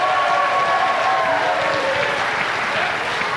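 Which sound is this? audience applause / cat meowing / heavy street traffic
audience applause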